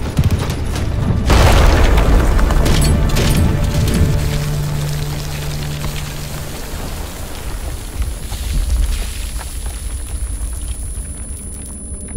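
A rocket explosion in a Turkish war film: a heavy boom erupts early and rolls into a long, loud rumble that fades slowly, with debris-like crackle and a second swell near the end, no voices.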